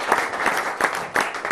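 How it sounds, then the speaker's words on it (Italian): A crowd claps for a women's basketball player being introduced at an Italian basketball federation event, a short burst of dense applause at moderate volume with uneven peaks. "un bel applauso."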